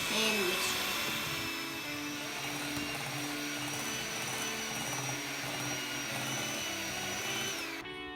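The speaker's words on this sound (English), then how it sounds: "we're going to use this electric hand mixer" Electric hand mixer beating sugar and butter together, a continuous high motorized whine with shifting tones held steady throughout, close up and loud, with a voice partly audible beneath it.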